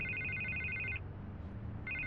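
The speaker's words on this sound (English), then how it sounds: "I can't get the phone to stop ringing." A telephone rings in Batman: The Telltale Series on PS4, a clear electronic bell tone heard as two rings separated by a short gap, over a low background hum.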